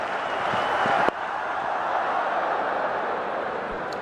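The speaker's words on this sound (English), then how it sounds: "The buzz in the crowd." A steady crowd buzz fills a cricket stadium in Mumbai during the third India vs New Zealand Test after a wicket falls, a broad, distant murmur with one sharp click near the start.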